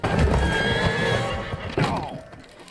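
A horse neighs loudly up close with a long whinny, while a person's voice and some clattering are mixed in.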